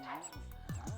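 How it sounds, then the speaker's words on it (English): Short, high yips from a dog in The Sims 2 game, two quick barks heard close over a continuous background. "What are you barking at?"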